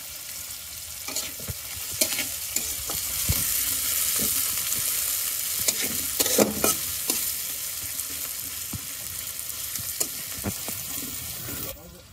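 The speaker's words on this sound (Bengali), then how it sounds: "লঙ্কা গোটা দিয়ে মিশিয়ে নিচ্ছি আমরা।" Whole chillies and garlic fry and sizzle in a pan, with steady loud frying and repeated scraping stirs, some clatter and faint talk in the background.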